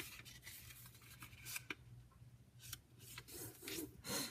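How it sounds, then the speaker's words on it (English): Origami paper is folded in half and creased, giving soft rubbing and scraping strokes with a few sharper crisp swipes, close and quiet, with no talking. "fold your paper in half,"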